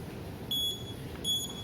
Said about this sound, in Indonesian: Pokoknya sampai bunyi titit gitu.